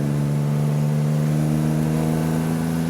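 An Aston Martin DB2/4 Mark III pulls along in second gear with a smooth, steady mid-pitched engine drone that holds an even tone throughout.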